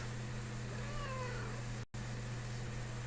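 A cat meows to be let outside, a faint wavering cry heard over a steady electrical hum and background hiss, briefly cut by a moment of silence, with no speech.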